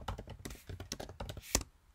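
Computer keyboard keys pressed while logging into a Windows Server, a quick run of light taps with one sharper click near the end, close and fairly quiet with no talking.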